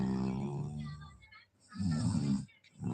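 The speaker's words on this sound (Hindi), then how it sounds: "हाँ खर्राटे बहुत तेज आ रही है" Loud, rasping snoring comes in two heavy breaths over three seconds, close and forceful, with a short quiet pause between them.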